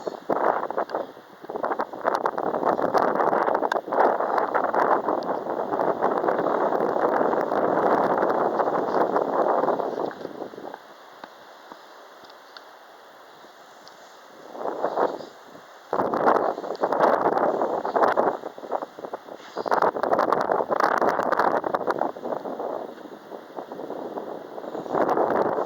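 Heavy wind gusting hard against the microphone in long, loud roaring rushes that drop briefly to quiet lulls and then return in strong bursts.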